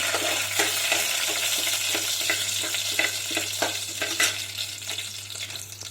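Mustard seeds and chana dal fry in hot oil in a pan, giving a loud continuous sizzle with dense crackling pops close by, over a low steady hum.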